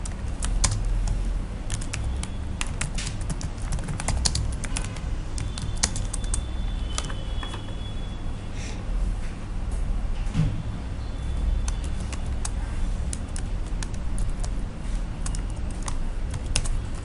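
A computer keyboard clicks steadily and continuously up close as a description is typed, with dense, even keystrokes throughout.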